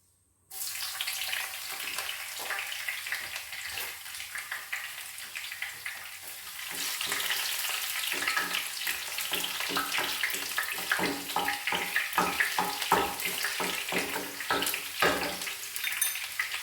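Tap water runs in a steady, close rush while ingredients for a fried chicken curry are rinsed, with light splashing and clattering that grows busier partway through.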